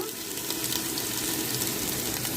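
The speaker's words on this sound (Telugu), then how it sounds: "ఇప్పుడు వాటర్ వేసేసుకుందాము" Water is poured into a pan of fried fish biryani masala, giving a steady close rush of gushing, hissing liquid with no talk.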